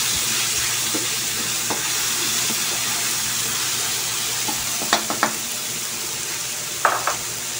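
Tomatoes and onion sizzle and fry in a pan while being stirred for ginisang pechay, a steady close hiss broken by a few sharp scraping clinks of the utensil.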